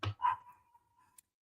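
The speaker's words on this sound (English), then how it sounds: "That dang dog, y'all. Can you hear him?" A dog gives a single short bark, close but fairly soft, trailing off into a brief fading whine, with no one talking.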